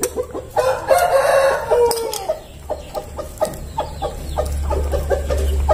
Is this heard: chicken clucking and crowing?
yes